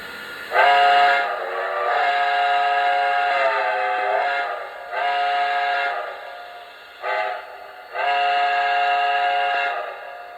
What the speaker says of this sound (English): And here's the whistle on the locomotive. And watch what happens when I blow it.